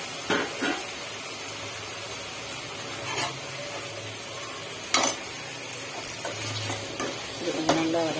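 Chopped tomatoes sautéing in a pan for a South Indian fish curry, a faint soft sizzle broken by a few sharp stirring scrapes and clinks.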